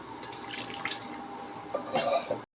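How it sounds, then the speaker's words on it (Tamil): Mutton cooking stock poured from a tumbler into rice for mutton biryani, a soft running, splashing liquid sound up close with a brief louder gush near the end. "அந்த மட்டன் வேக வச்ச தண்ணியை தான் இப்போ நான் இதில் ஊற்றுறேன்"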